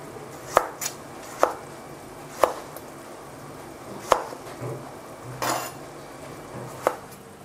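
Two tomatoes being chopped with a knife, sharp close board knocks at irregular intervals with some softer scraping and cutting sounds between, no voices.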